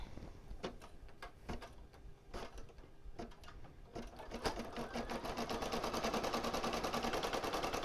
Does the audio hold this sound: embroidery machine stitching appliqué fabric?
yes